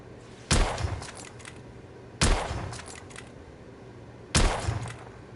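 Three sharp, loud gunshots ring out in a video game at even intervals, each one trailing off into a brief echoing tail, with no one talking.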